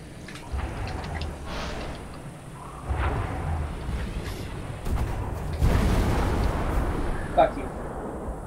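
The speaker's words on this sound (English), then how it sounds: "Explosion! Explosion! Loud noises!" Explosions from the video game Halo 3 rumble in repeated low bursts, with a sharper blast near the end and a voice talking over the action.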